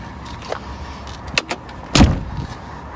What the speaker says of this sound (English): Door shuts well